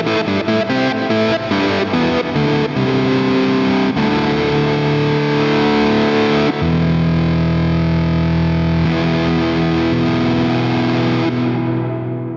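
Distorted electronic music from an external source sent through a SmplTrek reverb effect plays continuously, with sustained tones that shift partway through and trail off at the end.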